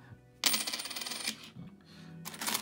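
Loose 1 hryvnia coins from a bank bag clatter and jingle as they are handled, with a sudden loud burst of metallic rattling, a brief lull, then another bright clinking pour near the end.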